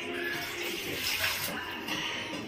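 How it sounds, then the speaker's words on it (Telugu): Water pours steadily into a bowl to cook Maggi noodles, a continuous close splashing rush lasting throughout. "ఇప్పుడు 1 glass ఆఫ్ కప్ వాటర్ వేసేస్తాం."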